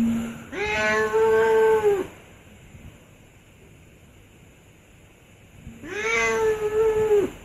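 A cat lets out two long, drawn-out meows a few seconds apart, close by, with a quiet windy background in between.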